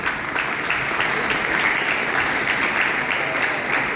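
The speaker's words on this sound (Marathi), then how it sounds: "जरा टाळ्या जोरात झाल्या पाहिजे." Applause from a concert audience fills the space, a dense, steady clapping that holds at a loud, even level throughout.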